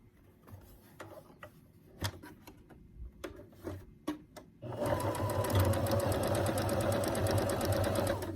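A sewing machine stitching fabric: a few soft clicks and taps first, then a steady, loud continuous run of fast mechanical stitching close by.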